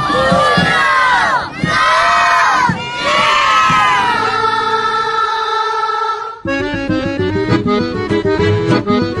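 A crowd of children at a family event with clowns, music and football shouts and cheers loudly in rising, wavering screams. Bursts come several times, then a long sustained cheer, and a rhythmic chant continues to the end.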